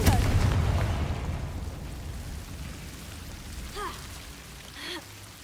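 A Confringo spell blast in Hogwarts Legacy opens with a loud burst that decays into crackling rumble, followed by two fainter rising chirping spell effects.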